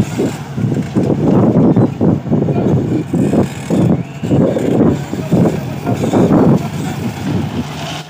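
Cement mixer truck's engine rumbles close by in heavy, pulsing low bursts that swell and fade over several seconds, fairly loud with some wind buffeting.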